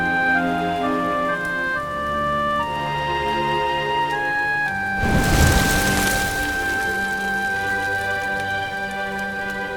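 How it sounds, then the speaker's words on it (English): Rain in the video game Dragon Quest XI, steady patter under sustained musical tones, with a heavy rumbling burst like thunder midway, no speech. "Looks like the rain's dying down."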